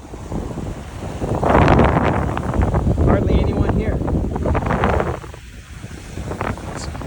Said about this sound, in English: It's nice to just relax and take in the ocean alone.